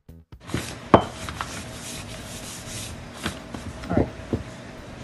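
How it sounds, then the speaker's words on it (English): A sharp X-Acto knife chisels at a cork for a glass bottle wind chime, giving a few short, close scraping cuts separated by quieter rubbing. "So taking a sharp X-Acto knife, carefully chisel."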